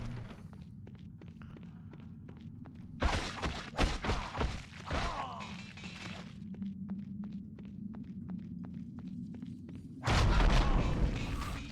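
Fire critical hit explosions in Baldur's Gate Dark Alliance, two heavy booming bursts separated by several seconds of combat thumps and footsteps.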